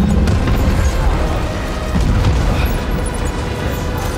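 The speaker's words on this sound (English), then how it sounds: "Grenade launcher." A grenade launcher blast in the video game Death Stranding, heard as a loud, sustained low boom and rumble that fills the whole moment with no talking over it.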